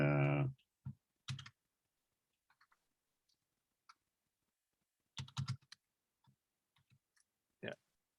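Scattered keyboard clicks from typing on a computer keyboard, a few quick clusters of key presses with long quiet gaps between, close by and fairly soft.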